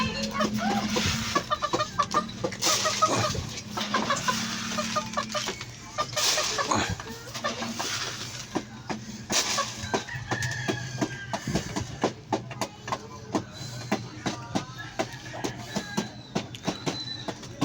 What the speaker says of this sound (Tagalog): Pakain tayo ng manok